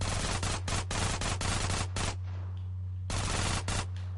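Rapid bursts of micro SMG and assault rifle fire in GTA San Andreas, loud and close, crackle in two long volleys with a short lull between them, over a steady low hum.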